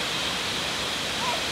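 Steady broadband rush of water flowing at the Chichester Dam, a continuous even wash with no distinct splashes, close and moderately loud throughout.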